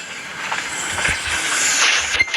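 Steady rumble and rushing hiss of a ChS8 electric locomotive train on the Kyiv–Odesa line running along the rails, continuous and fairly loud, with a sharp brief squeal near the end.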